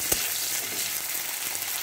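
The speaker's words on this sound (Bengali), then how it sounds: "পেঁয়াজগুলোকে খুব ভালো করে ভাজতে হবে" Chopped onions frying steadily in hot oil in a pan, a dense close sizzle with a soft stir or clink near the start, heard alone for about two seconds.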